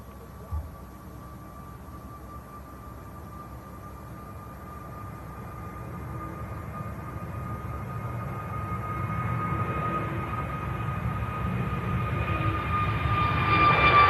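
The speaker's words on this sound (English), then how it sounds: "321, enjoy this, guys. It's a nice looking aircraft." A steady, gradually swelling roar from an Airbus A321 airliner passing at an airport while plane spotting, a broad engine rumble with a faint whine that grows louder toward the end, with no voices.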